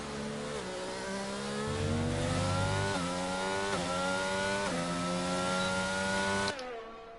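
A Mercedes race car tears around Silverstone on a hot lap in a racing video game, its engine howling loud and close with rising pitch through each gear and sharp drops at every upshift.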